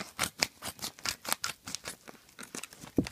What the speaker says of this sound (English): I'm going to cut it open.